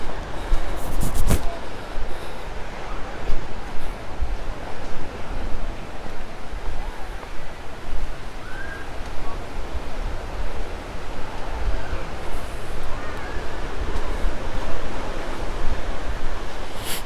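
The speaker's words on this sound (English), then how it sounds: "I'm sure you can by now hear the rumbling of the waves in the distance." Distant waves from a lake rumble beneath a trail in a wooded park, a soft, steady wash of broadband noise that swells gently, with a couple of brief nearby clicks near the start.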